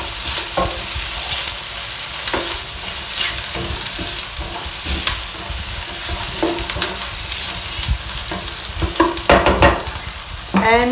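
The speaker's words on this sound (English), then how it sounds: "I'm going to add a little bit more olive oil for the garlic. Give it a mix as well." Garlic fries in olive oil in a pan as a spoon stirs it, a constant crackling sizzle broken by scraping strokes and clinks against the pan, close and fairly loud, with no talking.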